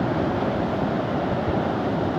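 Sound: rough sea waves

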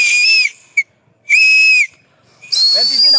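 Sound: whistle blown through an empty snail shell held between hands

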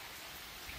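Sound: rain

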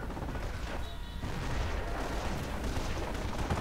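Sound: machine gun and artillery fire in Company of Heroes video game

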